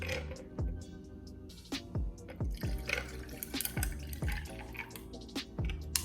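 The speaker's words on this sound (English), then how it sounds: "I'm gonna start with pouring some of the passion tea in, and I just have another mason jar full of ice." Passion tea poured into a mason jar full of ice, giving a close stream of trickling liquid with irregular clinks and drips from the ice, alone and moderately quiet.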